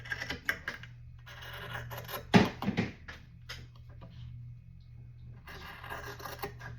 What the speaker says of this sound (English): And I got me some decent scissors out.